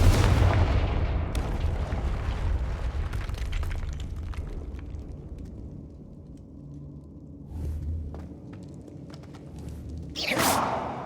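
Confringo fire spell cast in Hogwarts Legacy, a heavy booming blast that decays into rumbling crackle, followed by smaller bursts and a sharp second flare near the end, loud and full, with no talking.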